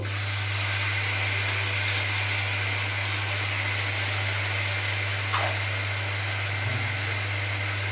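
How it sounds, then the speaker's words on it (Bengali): Ginger, garlic, cumin and chili paste sizzling in a pan with fried onions, a steady broad hiss of frying over a low constant hum, loud and unbroken, with no voices. "এরই মধ্যে আমি আদা রসুন জিরে লঙ্কা পেস্টটা দিয়ে দেবো।"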